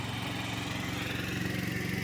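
A Bajaj auto rickshaw engine runs close by on a rural road, a continuous throbbing drone with a steady low pulse throughout.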